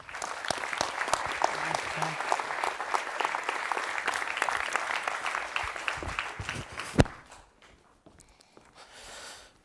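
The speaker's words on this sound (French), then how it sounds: "Je vous demande d'applaudir avec force, applaudissements" Audience applause at a talk event, steady dense clapping from a crowd for about seven seconds, then a sharp single thump and a quick fade to near silence with faint room noise at the end.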